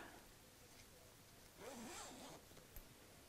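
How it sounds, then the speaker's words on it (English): A zip is pulled closed on a sewn fabric bag with a double zip pocket, making one short, close, faint rasping run against a quiet room. "So now when I do the zip up"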